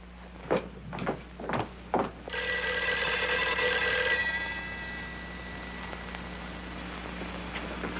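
A telephone rings late at night in a television drama, a sustained bright ringing tone that follows four quick knocks or thuds and fades slowly in a quiet room.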